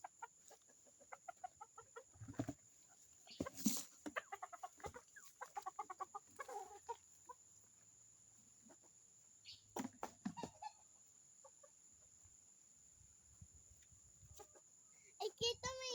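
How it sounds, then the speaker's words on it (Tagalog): Pet chickens cluck in short scattered bursts at close range, with a few louder squawks and a voice breaking in now and then. "magpakailan tayo sa mga alaga natin manok."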